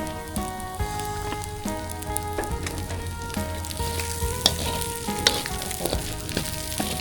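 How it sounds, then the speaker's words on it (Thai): Wild spiders frying in hot oil in a pan, a steady close sizzle with crackling pops and spits throughout, plus occasional stirring clinks. "เดี๋ยวจะลองเอาน้ำมัน ใส่แล้วทอด ดูว่าหน้าตาเป็นประมาณ"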